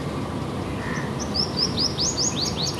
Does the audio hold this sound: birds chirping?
yes